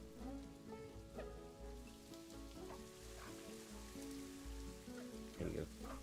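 Rain in the Planet Zoo video game patters steadily on surfaces at low volume, with a soft continuous hiss and light droplet detail under faint game music.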